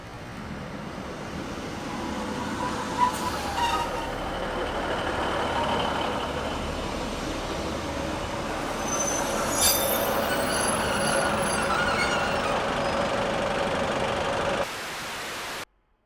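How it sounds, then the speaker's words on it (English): A Class 156 diesel multiple unit pulling into a platform at Carlisle station, a loud, close steady rumble with high-pitched wheel squeals rising over it, before the sound cuts off abruptly near the end. "The Class 156 pulled into Platform 2, and stayed there for a fair while before heading back down the Cumbrian Coast Line"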